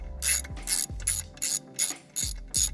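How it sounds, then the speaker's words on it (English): A hand ratchet undoes 12mm bolts on the throttle body of a 2022 Subaru WRX, giving seven or so close, crisp clicking strokes in a steady rhythm. "undo these two 12mm bolts that hold it onto the throttle"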